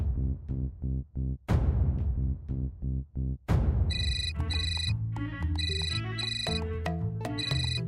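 A phone ringtone plays loudly and close: a rhythmic series of short tonal pulses, then a brighter repeating melodic chime pattern that continues to the end.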